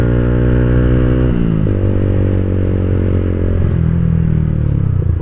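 An older Yamaha Vixion motorcycle accelerates on a dark, quiet road at night. The engine drones loudly and steadily, and its pitch climbs and then drops at each gear change as it pulls through the gears.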